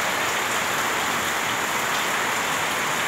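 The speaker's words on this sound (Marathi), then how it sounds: "काल पासून जो पाऊस आहे तो अजून थांबलेला नाही" Heavy, steady rain on a surface, a dense continuous hiss of drops with no letup across the whole span and no voices.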